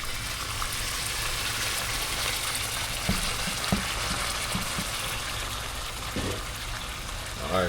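A full pan of Jamaican oxtail sizzles steadily in a home kitchen while being stirred, with a constant close frying hiss and occasional spoon knocks and scrapes against the pan.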